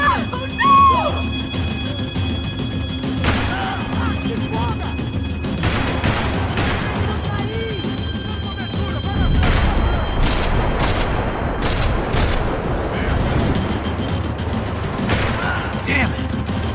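Sustained gunfire rattles through a Max Payne 3 action scene, with dense repeated loud shots and bursts over several seconds, mixed with shouting voices and heavy background noise.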